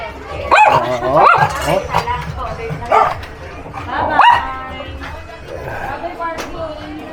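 Several dogs at a house bark repeatedly in sharp bursts, fairly close and loud, with whimpers between barks and people talking over them.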